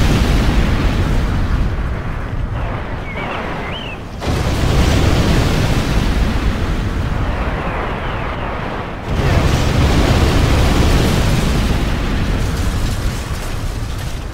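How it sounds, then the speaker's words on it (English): Nuclear missile detonation in the strategy game C&C Generals Zero Hour, a loud sustained roaring rumble of explosions with two abrupt surges in intensity, dense and continuous throughout. "Our nuclear missile is ready to fire."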